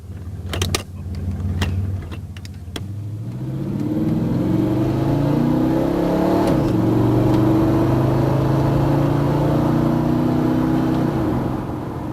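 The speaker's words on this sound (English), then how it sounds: "Now try some upshifts at 3/4 throttle to feel the new firmness." A vehicle with a GM 2004R automatic transmission accelerates at three-quarter throttle, its engine note climbing steadily and dropping at each crisp upshift. The drone is loud and continuous, heard from inside the car, with no talking.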